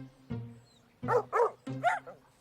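Several dogs on the way to a dog run bark in short, close bursts, one yap followed after a pause by a quick cluster of three or four barks, over a low hum.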